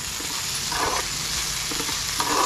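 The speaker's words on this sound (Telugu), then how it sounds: "మొత్తం మళ్ళీ మరలా మనం గరిటతో కలుపుకోవాలి." A ladle stirring drumstick curry in a pot, close scraping and mixing strokes over a continuous sizzling hiss, no talking.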